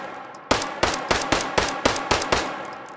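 Eight sharp handgun shots ring out in steady rapid succession in the H3VR virtual reality game, each crisp, loud and close, with no talking.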